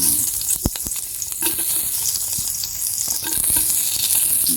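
Garlic tossed into a little hot oil in a pan, for a crab dish cooked in coconut milk: a close, bright, continuous sizzle with a few sharp clicks and scrapes of the utensil.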